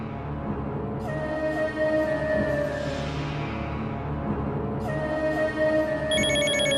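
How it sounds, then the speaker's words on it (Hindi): A telephone rings steadily and continuously, with repeated electronic ringing tones over a sustained musical background. "प्लीज मेरा फोन उठाओ"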